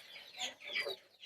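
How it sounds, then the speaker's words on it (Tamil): Chickens and young chicks on a farm, clucking and peeping in quick bright bursts, close and moderately loud, with no speech over them. "இவங்கெல்லாம் கோழி குஞ்சுங்க"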